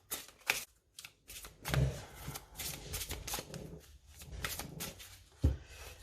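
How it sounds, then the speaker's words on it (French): Oracle cards of a black-witch deck are shuffled alongside runes, giving close, quiet riffling and slapping bursts in uneven rhythm with soft pauses between. "on va prendre quelques cartes, 3 cartes de la sorcière noire"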